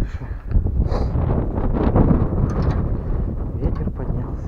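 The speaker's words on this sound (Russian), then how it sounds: "Ветер поднялся." Strong wind gusting across an open vegetable plot while seed is being sown, a loud continuous rushing and buffeting that fills the whole stretch.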